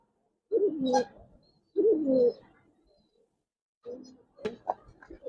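Khaki pigeons, a pure breeding pair, coo in a loft in three separate rolling bursts, near and fairly soft, with quiet pauses between them.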